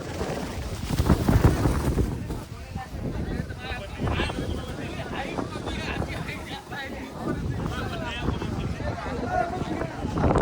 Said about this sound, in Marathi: किती जोरात वारा आहे